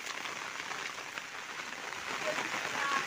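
Steady rain falls outdoors as someone walks through it hunting for wild mushrooms, a dense even patter spread close around the listener and holding at a constant, moderate level.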